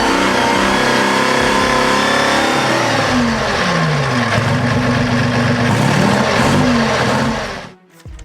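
An old twin-crankshaft 240 brake horsepower engine from an Abbott self-propelled gun runs loudly close by, its note rising and falling through revs before cutting off abruptly near the end.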